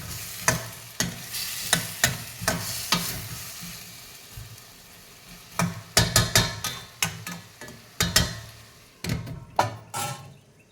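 Raw tomatoes fry in a pan on high heat while a spoon stirs them, giving repeated scraping knocks in irregular bursts over a steady close sizzle.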